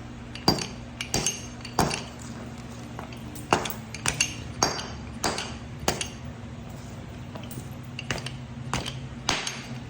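Georgia jasper being flint knapped to bevel an edge, a series of sharp, close clinking strikes at irregular intervals, about a dozen crisp ticks over quieter scraping, no talk.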